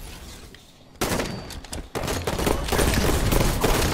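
Gunfire in the video game Halo 5, a dense fusillade of rapid shots that erupts suddenly after a quiet moment and keeps going loud and close.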